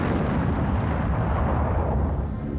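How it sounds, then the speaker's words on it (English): A pyrotechnic gasoline explosion set off by mortars behind a building's windows for a film effect, a loud sustained rumbling roar that slowly fades. "For a fiery explosion, mortars with gasoline were set directly behind every window."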